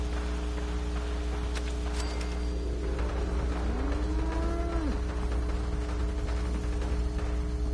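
Cows in a video game settlement moo with a long, low, drawn-out call over a steady game hum and ambient tones.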